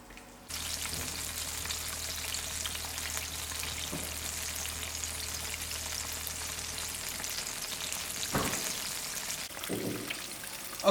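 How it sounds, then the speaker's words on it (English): Steady, close sizzling of a chicken burger frying in hot oil, a dense crackling hiss with a few louder pops and faint clinks. "and let it fry now"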